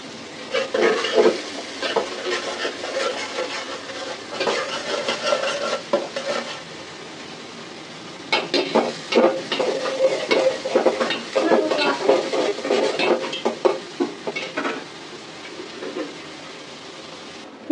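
Onions frying in a pan while being stirred, a steady sizzle broken by scraping and clinks of a spoon against the metal. The stirring comes in irregular bursts with a short lull partway through, close and fairly loud.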